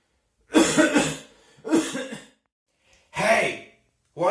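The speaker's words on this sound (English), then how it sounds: "You are sneezing and coughing everywhere without covering yourself." Three separate bursts of coughing, each a rough, throaty fit of several hacks close to the microphone, with short silent gaps between them.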